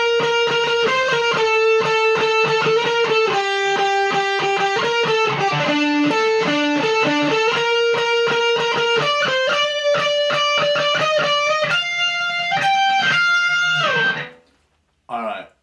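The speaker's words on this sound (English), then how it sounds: "this is part 1 of the first solo" A fast, shredding electric guitar solo with heavy distortion, rapid runs of notes climbing and shifting across the neck, played loud and steady before cutting off near the end with one short final burst.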